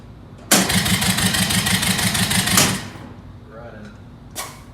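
A Honda B20 engine swapped into a Civic cranks, catches and runs loudly with a fast rhythmic pulse for about two seconds, then drops to a quieter idle while a voice speaks nearby.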